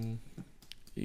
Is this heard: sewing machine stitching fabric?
no